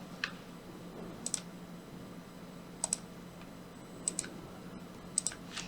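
A computer mouse clicks quietly and close up while lines are selected in Illustrator, with sparse single and double clicks spaced a second or so apart over faint room hum.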